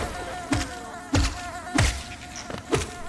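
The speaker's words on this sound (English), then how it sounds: "Sounds like a really, really bad beehive." Buzzing bees around a beehive in the Hollow Knight video game, heard as four separate loud insect buzzes with thumps at a steady, evenly spaced rhythm against a quiet game background.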